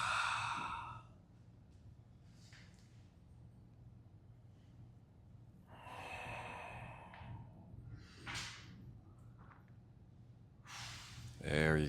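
Deep breathing during a power yoga leg stretch: several slow, audible sighing exhales and inhales spaced across the passage, fairly faint, with a quiet drone underneath.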